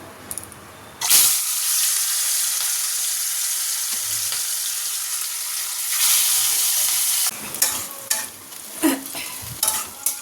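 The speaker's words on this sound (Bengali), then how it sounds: "তো চলো নুন হলুদ মাখানো হয়ে গেছে, এবার ভেজে নিই।" Katla fish pieces rubbed with salt and turmeric fry in hot oil, a loud steady sizzle swelling twice with occasional clanks and scraping at the end.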